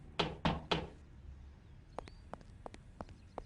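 Three loud knocks on a door in quick succession, then a pause and a lighter series of sharp taps spaced about every half second.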